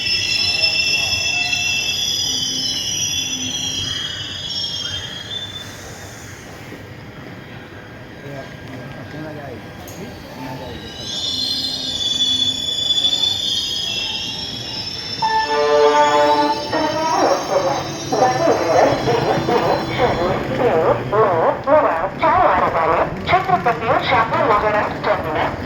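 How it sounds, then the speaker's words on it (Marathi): A Maharashtra Express train from Kolhapur moves through Satara railway station, its rolling rumble and squealing wheels growing louder toward the end while someone talks over it. "बस इथं महाराष्ट्र एक्सप्रेस आलेली आहे कोल्हापूरवरून. आता सध्या ती पुढे चाललेली आहे."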